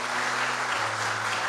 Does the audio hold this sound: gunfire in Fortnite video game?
no